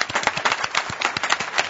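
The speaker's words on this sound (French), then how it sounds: "on peut vous applaudir bien fort" Audience applause for the finalists at a French television show, a dense patter of many hands clapping steadily and fairly close for the whole moment, with no voices over it.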